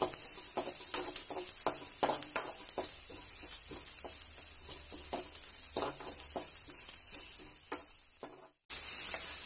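A sliced big onion frying in a pan while being stirred, with a steady sizzle broken by repeated scraping stir strokes, close and alone, then a brief cut near the end.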